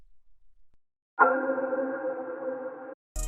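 A dark ambient synthesizer pad plays a single sustained tone for about two seconds, quiet and steady, in an FL Studio production setting, with no talk.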